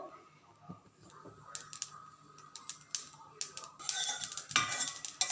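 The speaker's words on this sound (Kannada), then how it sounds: "ಸ್ವಲ್ಪ ಇದು ಸಾಸಿವೆ ಹಾಕಿದ್ದೇನೆ. ಒಂಚೂರು ಚಟ ಕುಟ್ಟಬೇಕು." Mustard seeds splutter in hot oil for a ridge gourd chutney, giving faint, irregular crackles and pops that grow busier toward the end, heard alone in a quiet kitchen.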